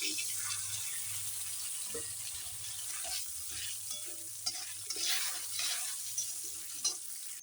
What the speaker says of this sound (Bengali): দেখো ডাল ভেজে লাল লাল করে নেওয়া হয়ে গেছে